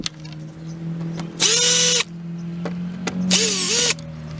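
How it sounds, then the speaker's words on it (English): A power drill backs screws out of a 2002 Honda Civic Si EP3 driver's side door panel in two short, close whirring bursts about two seconds apart, with a low steady hum underneath. "I'm going to go ahead and grab my drill and undo all these screws"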